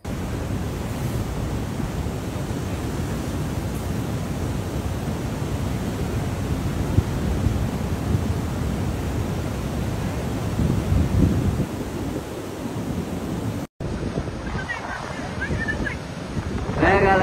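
Strong surf and gusting wind on the coast of Sal island in Cape Verde, a steady loud roar of crashing waves with wind buffeting the microphone, continuous throughout and briefly cut near the end.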